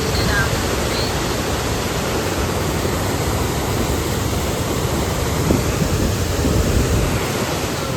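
Rushing water from a city waterfall pours steadily and loudly throughout, a dense, unbroken roar with no pauses.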